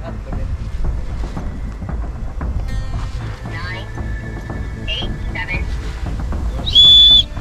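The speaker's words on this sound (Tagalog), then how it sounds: "Doy, follow mo lang yung pito ko, Doy!" A person blows a whistle outdoors amid wind and rustling, giving a few short shrill blasts followed by a longer piercing blast near the end, with voices calling in the background.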